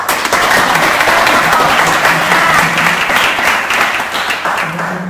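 An audience at a talk applauds in a dense, loud, sustained wash of clapping that tapers slightly toward the end, with a voice briefly audible underneath.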